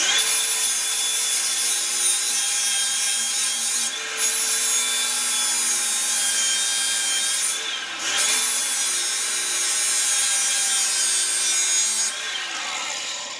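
A hand file rasps steadily along the bevel of a lawn mower blade, loud and close, in long continuous strokes broken by brief pauses around every four seconds.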